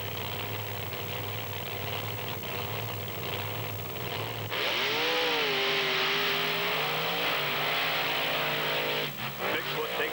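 Bigfoot Ford monster truck racing against a Chevrolet truck at a beach event in Wildwood, NJ, its engine roaring loud and steady with a rising whine partway through, over crowd noise and an announcer's voice.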